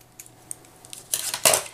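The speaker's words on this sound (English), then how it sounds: "And then we'll just use the scissors to trim off the excess." Scissors snip off the excess ribbon left after tying a bow on a paper craft layout, giving a couple of quick, crisp metallic cuts close by after a quiet stretch.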